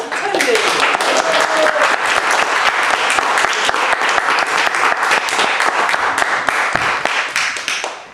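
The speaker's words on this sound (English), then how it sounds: "rousing applause for Tony" An audience gives loud, sustained, close applause for a speaker named Tony at a speaking event, dense clapping that runs steadily throughout and tapers slightly near the end.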